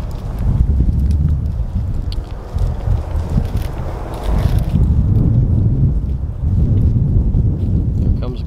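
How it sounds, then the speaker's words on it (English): A black beef cow walks in through a wooded grazing area, with soft, irregular hoof thuds and rustling underfoot, partly masked by steady wind noise on the microphone. "this makes 7 black cows once this last one comes in"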